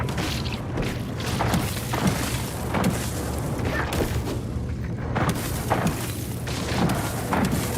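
Gunfire in the video game Outer Worlds 2 comes as repeated booming shots and thuds over a dense, continuous layer of game noise, with no talk.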